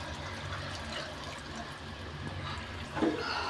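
Spice-washing water is poured into a pan of Bengali-style vola fish curry, a faint, steady watery rush with a slight splash near the end.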